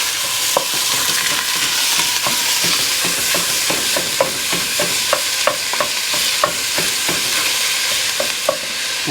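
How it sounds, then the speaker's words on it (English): Ground hamburger meat and olive oil frying in a pan, sizzling steadily while being busted up and stirred, with repeated scraping clicks of a utensil against the pan at a quick, uneven rhythm throughout. "Put the hamburger down in there."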